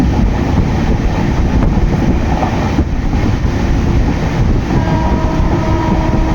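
A train, the Awadh Assam Express, rumbles and rattles steadily along the tracks in rain, loud and close from inside a carriage, with a constant wash of rain noise.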